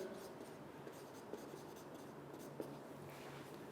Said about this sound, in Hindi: तो मैं यहां पे लिख दूं कि कॉल्ड